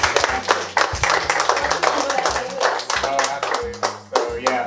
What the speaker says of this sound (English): I want to give a round of applause to Hamza